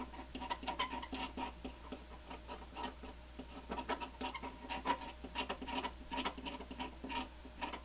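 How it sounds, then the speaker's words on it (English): A small tool scrapes battery corrosion off the circuit traces of a damaged 486 VLB motherboard. The scratchy rasping strokes come in quick, irregular bursts, quiet and close, with no talking. "let's try to scrape a layer of corrosion off of those traces"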